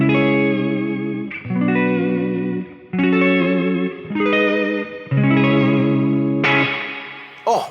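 An electric guitar plays sustained, distorted chords through a Neunaber Immerse Reverberator pedal, effects level at maximum, each chord swelling and ringing out before the next, with a bright washy tail.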